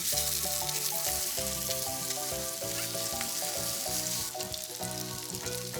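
Meat rolls frying in a frying pan, a continuous loud sizzle and crackle with background music playing throughout, no talk.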